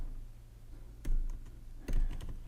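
Keys on a computer keyboard are struck in two short bursts of quiet clicks over a steady low hum, with no talking, while a message is typed in a browser.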